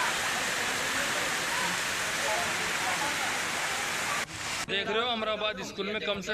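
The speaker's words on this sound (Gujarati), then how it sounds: "નદીમાં જળસપાટી વધતા પુલના છ ફૂટ ઉપરથી પાણી વહી રહ્યું છે" Swollen river floodwater pours over a bridge in heavy rain, a loud, continuous broadband rush for several seconds before it cuts away to a person speaking.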